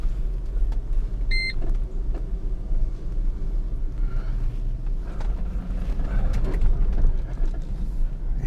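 A car drives steadily with a low, continuous engine and road rumble, close and fairly loud, with a brief electronic beep early on and some light rattling in between.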